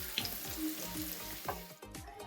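Cauliflower pieces frying in oil over medium heat give a steady, close sizzle with crackling pops throughout.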